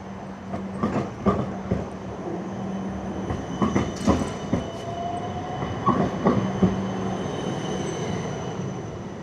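Several trams roll past at Anzac station in Melbourne, a continuous rail rumble broken by repeated wheel clatter and clacks over about nine seconds, with one brief squeal of steel wheels partway through.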